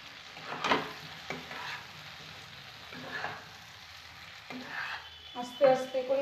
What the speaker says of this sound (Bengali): ফুলকপি আর আলুটা যেটা ভাজা ছিল সেটা আমি এর সঙ্গে অ্যাড করে দিচ্ছি